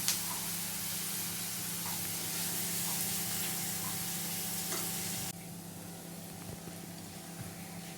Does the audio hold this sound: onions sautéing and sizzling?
yes